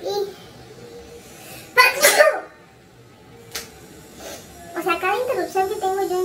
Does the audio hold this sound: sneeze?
yes